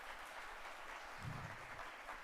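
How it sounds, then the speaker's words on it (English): Audience applause at a college graduation ceremony fills the whole stretch as a dense, steady patter of clapping heard from a distance at low volume. "Big round of applause, Dr. Alison George."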